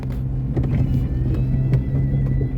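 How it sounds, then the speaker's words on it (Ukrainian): A small car bumping slowly along a rough, rutted forest track on a mushroom-picking outing, its low engine rumble steady with faint rattles and knocks, no voices. "Машинка їде і вивозить."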